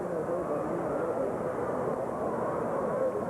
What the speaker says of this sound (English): there's a helicopter flying around the ballpark